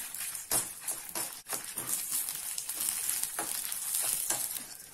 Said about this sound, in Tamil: ஒரு ஸ்பூன் நம்ம எண்ணெய் ஊற்றி அதில் மிளகாய், கடலைப்பருப்பு ரெண்டுத்தையும் சேர்த்து நம்ம வறுத்து எடுத்துக்கலாம்